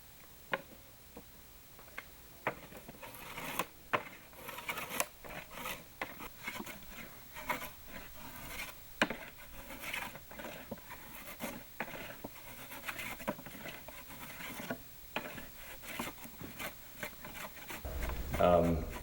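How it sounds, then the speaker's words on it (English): Drawknife shaving high spots off a hand-split wooden shingle, making faint, irregular scraping strokes and light ticks close by, with soft background noise throughout. "Final step is you want to take any high spots off the shingle and you want to make them pretty flat."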